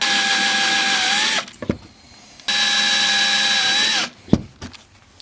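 A power drill whines at high speed in two loud, close bursts, each winding down in pitch as the trigger releases, separated by short pauses with a sharp knock near the end.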